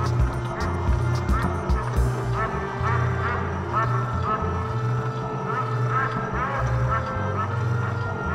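Ducks quack in scattered bursts over a steady low rumble, moderately loud and nearby.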